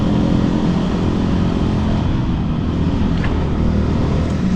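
A Voge 300 Rally motorcycle rides along steadily in third gear, its engine holding a continuous, close, loud drone with a dense low rumble and no clear revving changes.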